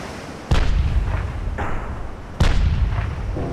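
Front guns of a warship firing in the naval video game Ultimate Admiral Dreadnoughts: two loud, booming artillery blasts about two seconds apart, each followed by a rumbling decay, with no talking.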